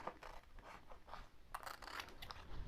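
Paper stencils for homemade holiday wrapping paper being cut apart with scissors, a run of soft, close snipping and papery scraping strokes with no talk.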